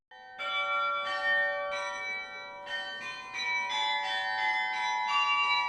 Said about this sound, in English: one of the most imposing carillons in France, featuring 64 bells that are all individually named